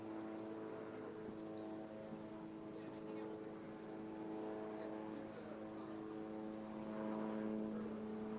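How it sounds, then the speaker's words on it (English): A helicopter drones overhead at a distance, a steady low rotor hum holding throughout at moderate level with slight swells, no speech over it. "Ooh, there's a helicopter."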